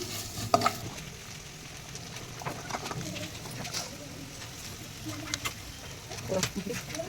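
Ginger garlic paste being sautéed in a pan for mutton kuzhambu. Soft, intermittent stirring scrapes and a faint, low sizzle run throughout at a gentle level.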